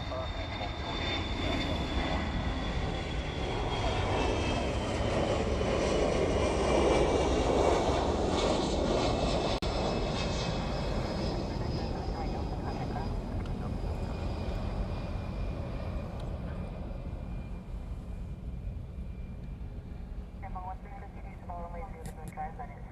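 A jet aircraft roars at Honolulu airport, a broad engine rumble swelling loud near the middle and slowly fading as it passes, with a faint voice heard toward the end.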